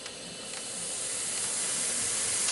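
Pressurized air leaks from a hose in a steady, broad hiss that swells slightly louder over a couple of seconds, close and alone.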